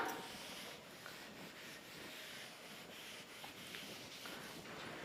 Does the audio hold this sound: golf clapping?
no